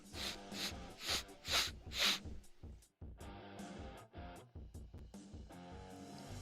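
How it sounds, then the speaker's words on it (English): Someone sniffs a glass of Kona Big Wave beer, giving several loud, close nasal snorts and inhales in a quick run, followed by quieter rustling and handling sounds. "I did just sniff a little bit of beer up my nose there."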